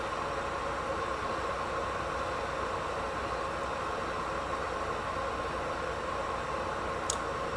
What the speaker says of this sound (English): That is the sound of the kettle. It's heating up the water.